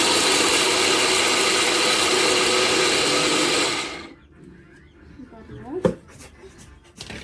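A mixer grinder whirs loudly at full speed grinding soaked lentils for vada, then cuts off abruptly about halfway, leaving quieter clatters and a voice speaking afterward.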